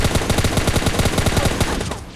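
Rapid bursts of automatic gunfire from PUBG Mobile Lite, a fast rattling string of shots that stops abruptly near the end.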